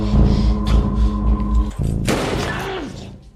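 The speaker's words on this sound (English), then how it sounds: "Sarah then removes the gun from Tito's head and shoots Terry and Mackers" Gunfire in a tense film shootout as a woman shoots two men. Shots and thuds sit over dramatic music and a low rumble, with a sharp break partway through before the scene continues.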